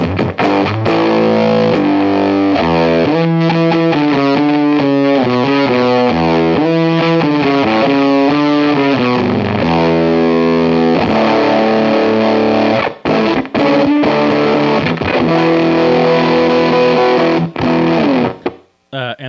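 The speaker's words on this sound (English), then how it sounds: "Let's hear it cranked all the way on thick," Strat electric guitar through a Walrus Audio Jupiter fuzz pedal dimed on its thick setting, playing a loud, dense, saturated riff with sustained chords and single notes, steady for most of the passage before cutting off briefly and ending.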